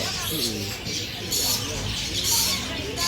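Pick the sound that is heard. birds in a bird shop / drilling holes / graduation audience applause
birds in a bird shop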